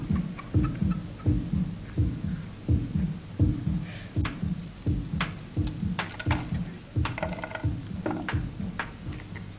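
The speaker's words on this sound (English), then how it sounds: "Now there's a background noise. What's that? A heartbeat." A recorded human heartbeat thumps in a steady, even rhythm, about a dozen soft double beats in a row over a low hum, with no voices.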